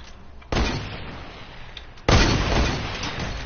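Gunfire in Fortnite: two loud, sharp shots with booming tails, the first just after the start and a heavier second one about a second and a half later, with no talk.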